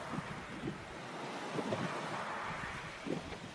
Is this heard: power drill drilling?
no